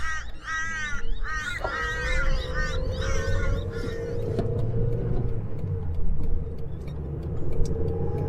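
Several harsh crow caws ring out in quick succession at a car meet, then a car engine drones steadily nearby and continues alone.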